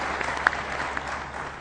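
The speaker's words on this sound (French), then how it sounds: "Il faut les applaudir" A room full of people applauding at a ministerial closing ceremony speech, dense steady clapping close by with a few louder individual claps standing out.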